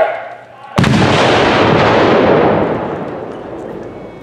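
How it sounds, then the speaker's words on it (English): A single loud cannon blast booms out after a brief quiet moment, followed by a long rolling rumble that slowly fades, at an artillery competition with cannons firing round balls at 200 yards. "These cannons were actually shooting round balls at 200 yards."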